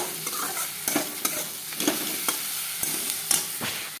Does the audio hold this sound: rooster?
no